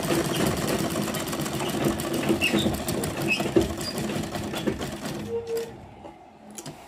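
A sewing machine runs continuously, stitching a salwar with a fast, steady mechanical chatter close by, then winds down and stops near the end.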